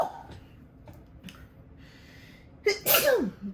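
A single loud sneeze bursts out near the end after a few quiet seconds of faint rustling and breathing, close and sharp.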